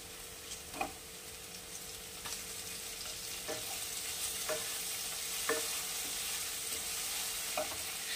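Chopped raw and ripe tomatoes going into mixed vegetables frying in a pan, heard as a steady soft sizzle with scattered scraping clicks of stirring, fairly quiet and without talk.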